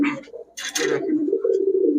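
Pakistani highflyer Giribaz pigeons at a shop give a low, sustained coo that follows a brief burst of wing flutter or rustling, close and fairly loud.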